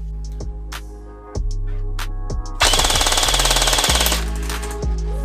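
A Specna Arms SA-249 MK2 airsoft gun fires full auto at about 18 rounds per second, a loud rapid mechanical rattle lasting over a second, with sharp clacks and handling noises before and after.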